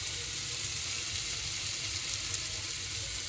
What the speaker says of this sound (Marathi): तर लो फ्लेमवरती फ्राय करून घेऊया आपण.